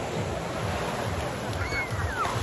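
Waves churning in an outdoor water park wave pool, a continuous broad wash of surf noise with some wind buffeting, steady and fairly close, with a faint high whistle-like sweep partway through and no clear talk.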